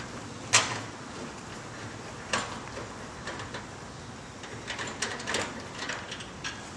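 Bolts on a muffler clamp being loosened with a 13mm wrench, sounding as sparse metallic clicks and ratchet ticks with a few sharper knocks, close and fairly quiet against a low background hiss.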